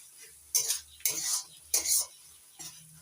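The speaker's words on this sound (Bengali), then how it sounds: "কাঁচা লঙ্কা বাটা দিয়ে আবার একটু কষিয়ে নিচ্ছি" Green chilli paste being stir-fried in a pan over a medium gas flame for a jackfruit chicken curry: four short, close scraping strokes of a spatula with a light sizzle between them, no talking.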